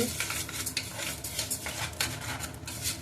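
Ingredients roasting in butter in a pan while making sweet pongal are stirred continuously, with a rhythmic scraping and clinking of the utensil against the metal over a soft, steady sizzle.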